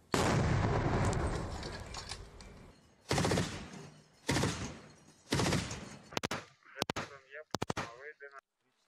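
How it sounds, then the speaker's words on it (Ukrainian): Combat gunfire and artillery shots from the Avdiivka front line: a long heavy blast of fire followed by several loud separate bursts and sharp cracks, close and dominant, with no voices over it. "Постріл!"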